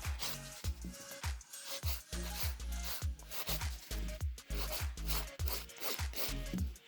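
A nail file blends down gel on a nail during a salon infill, with quick rhythmic rasping strokes repeating steadily and close up for several seconds.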